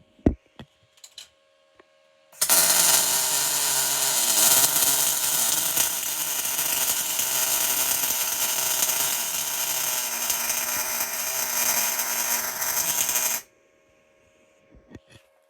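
MIG welding a seam on aluminium with a Spika Multi GMAW 250S eLCD welder: a steady, loud, crackling hiss that runs unbroken for about eleven seconds, with brief clicks before it starts and after it stops.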